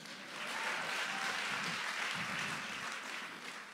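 A church congregation applauds in a steady, even patter of many hands. The clapping swells in after a moment, holds at a moderate distance and then eases slightly.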